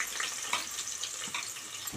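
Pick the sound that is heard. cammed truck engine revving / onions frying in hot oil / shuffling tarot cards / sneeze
onions frying in hot oil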